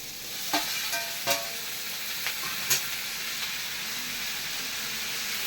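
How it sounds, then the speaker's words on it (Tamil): Tomatoes fry with sautéed onions in a pan for paneer butter masala, with a steady sizzle and several distinct scraping stirs of a spoon. "நல்லா வெங்காயம் வதங்கியாச்சு. இப்போ தக்காளி போட்டுக்கலாம்."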